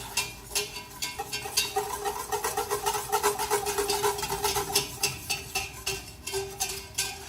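Crab macaroni and cheese sauce is stirred in a pot, producing a steady, rhythmic scraping and swishing that repeats several times per second, close and fairly loud throughout.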